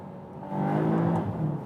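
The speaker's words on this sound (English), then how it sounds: "I hold the left pedal, it goes back to the lowest gear" A Volkswagen Arteon R GT with a 320 hp engine and all-wheel drive downshifts to first gear: a brief, muffled engine hum that swells slightly in revs over under two seconds, heard from inside the car.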